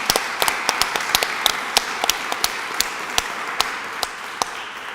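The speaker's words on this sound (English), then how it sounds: "May I have a warm applause for Dr. Hanno Sauer?" Scattered, sparse clapping from a small lecture audience after a talk, with individual claps standing out irregularly over a soft background hiss, thinning out toward the end.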